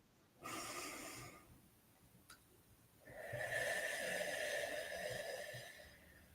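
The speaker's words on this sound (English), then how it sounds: "Let's take another deep breath." A person takes a deep breath close by: a first breathy inhale, a pause, then a longer, louder airy breath that tapers off, with no talking.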